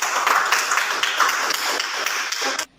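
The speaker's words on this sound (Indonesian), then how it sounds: "Iya, tepuk tangan." A small classroom group claps briefly in applause, a dense patter of hand claps that cuts off abruptly near the end.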